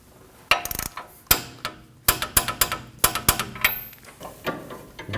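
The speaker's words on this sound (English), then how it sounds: "And we'll torque this to 44 foot-pounds." A torque wrench tightens the outer tie rod nut on a 2016–2022 Honda Pilot, giving a series of sharp metallic clicks and ratcheting snaps, close and loud, in irregular bursts with brief pauses between.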